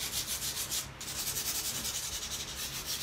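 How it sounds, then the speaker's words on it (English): Coarse 80 grit sandpaper rubbed back and forth over a textured painted surface, a close, continuous rhythmic scratching with one brief pause near the start. "This is quite hardcore sandpaper. It's 80 grit"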